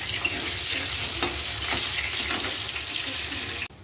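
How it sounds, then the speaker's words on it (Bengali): Potatoes fry with salt and turmeric in a pan, producing a loud, steady sizzle that runs throughout with faint stirring scrapes and a sharp cut near the end, with no voices. "এই পাশে আলুগুলো একটু ভেজে নিচ্ছি লাল লাল করে, একটু লবণ, একটু হলুদ দিয়ে সুন্দর করে আলুটা ভেজে নেব।"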